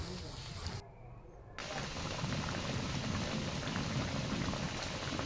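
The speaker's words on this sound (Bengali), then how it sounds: "এরপর কড়াইয়ে সরিষার তেল দিয়ে তাতে পাঁচফোড়ন দিয়ে আমগুলো দিয়ে দেব।" Raw mango pieces cook in mustard oil with panch phoron for a pickle, a dense bubbling, rain-like spatter close by that drops out briefly early on, then returns steady and full.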